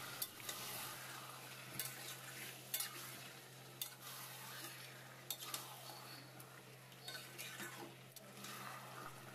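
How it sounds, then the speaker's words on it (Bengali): Marinated chicken pieces sizzle and fry in a pan over a high gas flame, a steady broadband hiss punctuated by sharp scrapes and clinks of a spatula stirring against the pan. "এই সময় গ্যাসটা হাই ফ্লেমে করে মাংসটা কষিয়ে নেব"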